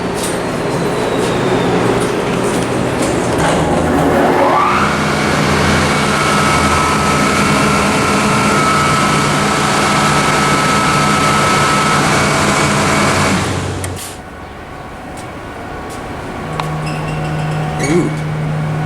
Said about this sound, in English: Y'all gotta listen to this motor.